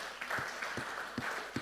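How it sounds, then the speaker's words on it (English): Faint, sparse applause from a conference audience at the Kampala Urban Mobility Conference, a few distinct claps heard at a distance. "deserves another hand of applause."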